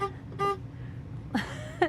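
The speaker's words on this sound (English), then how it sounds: "that's the parking lot horn, right?" Two short, soft parking lot horn toots from a 2024 Renegade Verona 40VRB RV, the second a moment after the first, over a low steady engine hum.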